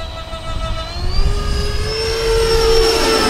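A ducted-fan radio-controlled Su-47 model jet flies overhead with a loud, rising whine that climbs steadily in pitch as the throttle increases, over a windy rushing background.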